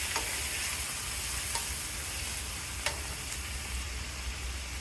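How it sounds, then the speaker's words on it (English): Chow mein with beef, chicken, squid, barbecue pork and shrimp sizzles over very high heat as a utensil scrapes and clinks in the wok, a steady close frying hiss with occasional sharp taps and no speech. "And then I'm going to mix it up so that I'm going to finish cooking it."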